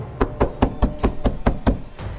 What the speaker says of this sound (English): I could see a hand rise up, pull back, and knock once more.